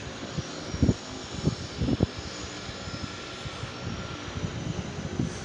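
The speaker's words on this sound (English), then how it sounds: "There's a seaplane departing from the Little Mermaid, close to it" A seaplane taking off near the Little Mermaid, a steady distant engine drone under irregular close knocks and bumps from a houseboat, with no talking.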